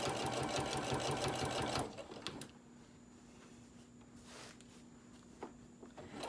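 A sewing machine runs a straight stitch around the edge of a fabric mat, a fast, steady, close whirring chatter for about two seconds before stopping, leaving a quieter room with faint handling noises.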